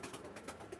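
Pakistani Teddy pigeons, a newly adult pair, give a brief soft coo, faint and close, rising slightly toward the end, with no voices.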